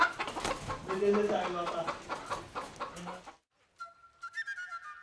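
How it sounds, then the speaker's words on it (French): Chickens at a poultry farm in Haiti cluck and chatter steadily in a busy flock, loud and close, before a short silence and a few fainter calls. "l'élevage des poules a depuis lors pris de l'ampleur"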